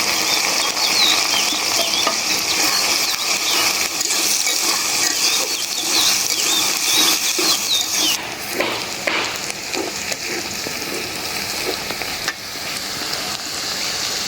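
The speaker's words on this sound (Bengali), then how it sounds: "রসুন পেঁয়াজ মরিচ ভাইজা নিলাম কচু দিয়ে দিলাম" Garlic, onion and green chili fry in hot oil with steady crackling sizzle and stirring, then taro goes into the pan and the sizzle shifts and drops slightly, close and continuous with no talking.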